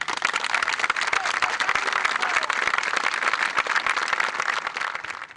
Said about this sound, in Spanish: Por eso yo quiero un aplauso